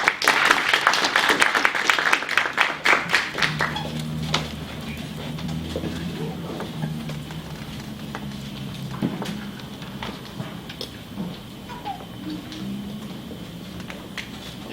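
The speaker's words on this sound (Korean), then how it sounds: "큰 박수로 청해 드리겠습니다." Audience applause at a Korean conference hall as a professor is called to the stage at a regulatory reform forum; a burst of clapping for about four seconds, then fading into low room murmur and shuffling.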